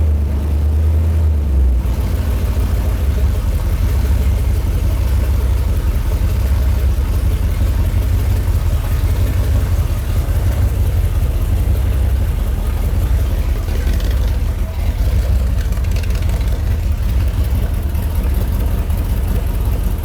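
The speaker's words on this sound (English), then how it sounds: "Start bringing them out, try to get the RPM up, up, up, up, up until it's kind of at its peak, and then I'll turn the idle down" Car engine idling with a steady, loud low rumble throughout while the carburetor idle is adjusted, the pitch holding nearly constant.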